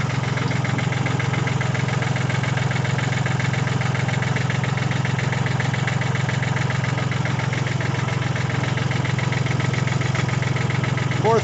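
A 1979 Porsche 924 engine idles steadily once warmed up, giving a constant, loud, even rumble with a faint rhythmic pulse and no change in speed.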